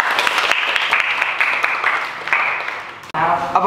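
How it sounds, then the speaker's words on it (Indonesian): Indoor classroom audience clapping for a student group, steady dense applause for several seconds that cuts off sharply near the end, followed by a burst of louder closer claps. "berikan aplaus untuk kelompok Umar bin Khattab"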